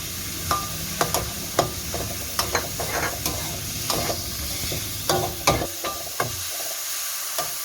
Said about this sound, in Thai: เราก็ใส่หมูสับลงไปเลยค่ะ ผักรวมนะคะ